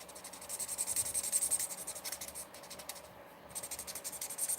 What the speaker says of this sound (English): So they're squeakier markers, that's for sure.